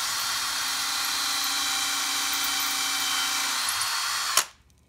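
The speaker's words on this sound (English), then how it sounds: "So we'll put the drill in there," A centre drill in a drill press bores into an aluminium block for a Locker diff fitting, giving a steady, close high-pitched whine that cuts off abruptly near the end as the motor stops.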